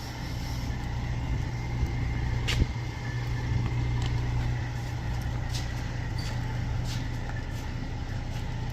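A heavy truck idling and creeping in close at a repair yard to collect a dry van trailer, its steady diesel rumble continuous throughout with a brief clank or brake hiss partway through.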